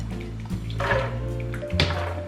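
Water splashes in bursts as it is poured into a blender for soaking and peeling beans, a close, brief gushing with short pauses.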